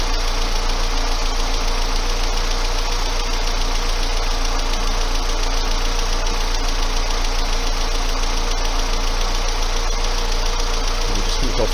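A car engine idling during a battery charging test, giving a steady, loud mechanical drone with a constant low hum and no revving.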